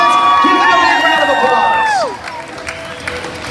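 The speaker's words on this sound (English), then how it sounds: "Here they are, your 4 contestants! Give them a big round of" A live stage-show audience cheers, whoops and applauds as four contestants are introduced, the crowd noise loud and dense with a voice talking over it before it drops away and settles into a lower murmur.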